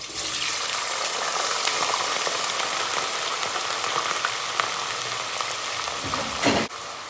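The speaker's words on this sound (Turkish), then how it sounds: "Altın sarısı rengine gelene kadar patateslerimizi kızartacağız." Potatoes fry in hot oil, a dense, even sizzle that holds steady for several seconds with faint crackles, then one brief louder burst near the end.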